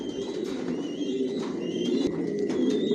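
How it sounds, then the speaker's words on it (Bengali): Racer pigeons coo in a loft, a steady chorus of low throaty coos from several birds close by, with faint chirps over the top. "টপ কোয়ালিটির কবুতর পালি"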